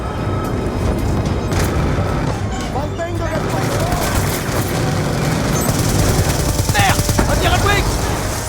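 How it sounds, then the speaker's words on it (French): Rapid turret gunfire rattles in the video game Black Ops II, a dense, loud burst of shots layered with explosions and game noise, while a voice speaks over the action. "Les hommes se font massacrer par les tourelles"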